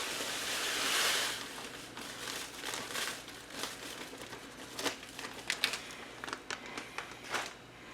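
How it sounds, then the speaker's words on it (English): Two sleeves of Ritz crackers crinkle and rustle as they drop into a pot, with a burst of plastic wrapper noise followed by scattered close crunchy clicks and taps. "2 sleeves of Ritz Crackers. And we're going to add this right to the pot."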